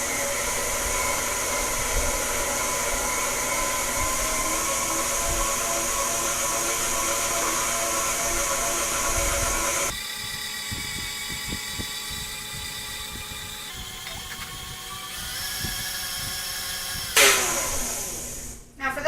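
A stand mixer with a whisk attachment runs steadily with a dense, high motor whir while eggs are added one at a time. Partway through, the tone drops and shifts, and a few clatters and bumps sound near the end.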